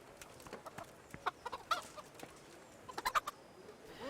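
Chickens clucking in the Kingdom Come: Deliverance video game, scattered short clucks and squawks at moderate distance over a quiet ambient background, with a couple of clustered bursts.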